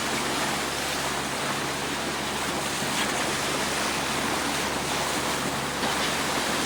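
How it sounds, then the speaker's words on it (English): Dense, continuous rushing and splashing of water surrounds the listener standing on a boat's bowsprit in Alaska, a loud steady wash like spray around a moving hull, with no talking. "You can hear the splashing as they shoot up around us"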